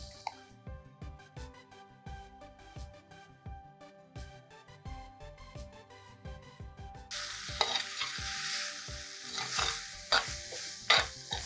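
Cooked quinoa and greens stirred in a hot pan with a spoon, a steady run of scraping strokes over soft sizzling that turns into a louder, brighter sizzle partway through.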